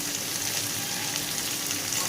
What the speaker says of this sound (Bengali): ভালো করে এবার এটাকে ভেজে নেব